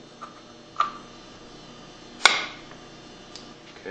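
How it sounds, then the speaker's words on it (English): A rubber hammer taps a part into place on a Hypro 2535 S plunger pump, giving a couple of soft, dull knocks followed by one sharper, louder strike in a quiet workshop setting. "You may need to tap it down with a rubber hammer to get it fully seated."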